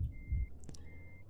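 Reversing beeps from a truck in the video game German Truck Simulator: a steady electronic tone that sounds twice, once briefly and once at length, over a low engine rumble.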